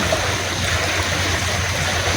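River water flows in a steady, broadband rush, loud and continuous throughout with a low rumble beneath and no talk over it.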